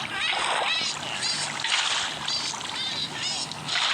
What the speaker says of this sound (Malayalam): ഇനി നമുക്ക് അടിയിൽ ഇതേപോലെ എല്ലാ സൈഡിലും വെള്ളം ഒഴിച്ച്